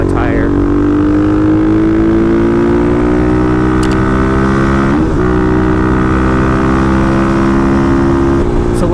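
A Kawasaki KLX351 dirt bike engine drones steadily close up, its pitch shifting slightly as the rider works through corners, with a brief dip and lurch midway through the run.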